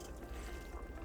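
Hot water is poured into a sauerkraut mixture in a kitchen, a soft, steady, hissing stream that stays faint and even throughout.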